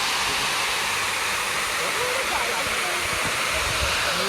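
Overflow water from a dam in Coorg pours through a canal in a constant, loud, hissing roar that holds steady without a break, with faint low rumbling underneath.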